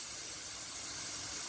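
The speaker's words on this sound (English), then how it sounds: "We'll do a little test spray." A paint spray gun fires a short test burst of primer during a Ford F-150 fender repair at home, giving a steady, even hiss of air with no break, heard alone.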